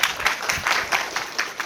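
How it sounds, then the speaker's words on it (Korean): An audience claps at a university admissions strategy seminar as an expert is welcomed to the stage, a short burst of steady, moderately loud clapping from a roomful of people. "여러분 박수 부탁드리겠습니다"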